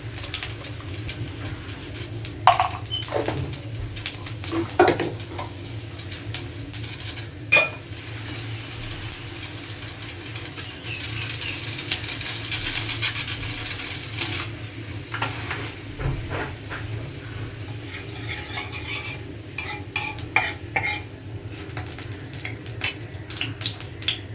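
Nigella seeds tempering in hot oil in a pan while being stirred: a steady hiss with scattered crackles and a few sharp pops, close and fairly loud, with no voices.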